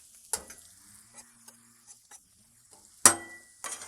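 Buns are flipped on a hot griddle to toast, with scattered spatula taps and scrapes, two sharper clatters and a faint sizzle between them, heard close by without speech.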